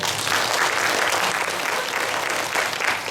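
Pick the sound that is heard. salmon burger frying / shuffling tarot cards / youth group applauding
youth group applauding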